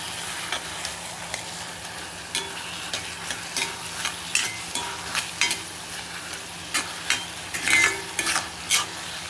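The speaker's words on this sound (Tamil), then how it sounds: "நல்லா இது தக்காளி ஸ்மாஷ் ஆகுது பாருங்கள்." Tomatoes being mashed and stirred in a frying pan for paneer bhurji, with a soft sizzle underneath and repeated clinks and scrapes of the spoon against the pan, growing busier toward the end.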